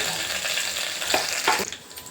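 Garlic, cumin and ginger sizzle and crackle in hot oil in a pot, a steady close frying hiss with a couple of brief louder spits, no voices.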